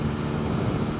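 A 2016 BMW R NineT motorcycle with an Akrapovic exhaust revving high in its range, giving a steady, loud, droning engine note much like a propeller airplane, close and continuous throughout.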